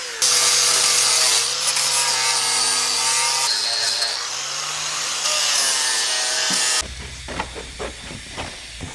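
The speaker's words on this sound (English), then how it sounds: "We're going to clean up this edge with the other grinder." An angle grinder cleans up a metal edge on a classic VW Beetle, giving a loud, continuous whine that shifts pitch with pressure, then gives way to rougher, intermittent scraping near the end.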